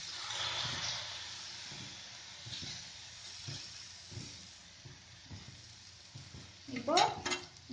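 Rava dosa batter hits a hot pan, giving a steady broad sizzle and hiss with scattered low clatter, then a brighter louder burst of sizzling near the end.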